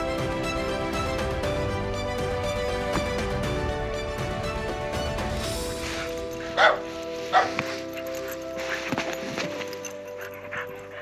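A McNab dog barks and whimpers in short high yips and whines against a busy, music-like background, a few distinct bursts standing out near the end.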